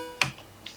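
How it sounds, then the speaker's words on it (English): Synthesized video-game-style clang from a Max for Live Clang device, a single bright metallic ping followed by a softer, filtered echo, short and crisp over a faint hum. "I have another Max for Live device that's called the Clang. Just making this video game type of sound."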